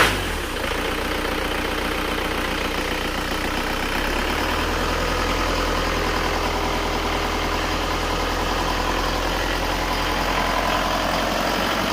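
An Isuzu Panther Euro 2 diesel engine idles steadily and close, a continuous low rumble with a slight rise in level about four seconds in, alone with no talk.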